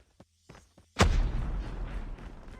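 A grenade in a ranked match of an online shooter game detonates in a sudden loud boom, and a rumbling tail lingers after it. A few faint clicks and thuds come just before the blast.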